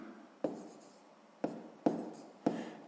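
Writing out a math solution by hand, four separate sharp taps and short scratches of a pen or chalk on a surface, quiet and close, spaced unevenly over a few seconds.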